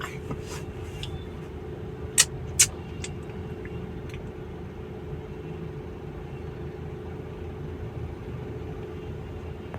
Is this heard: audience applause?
no